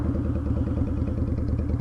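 A Yamaha Virago XV250 custom bobber with a custom exhaust and pod filters runs nearby, its engine a loud, steady, throbbing putter with a rapid pulsing beat and slight clatter, no voices over it.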